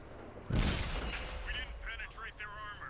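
A tank destroyer's gun fires once in the World of Tanks video game, a loud booming blast that rolls off into a tail, with someone talking over it afterward.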